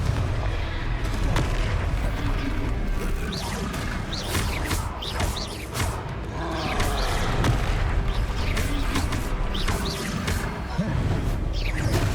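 In the game Hogwarts Legacy, a Confringo blast spell is fired during a troll fight. Heavy booming impacts and crackling bursts ring out over a dense, loud layer of battle noise and game sound.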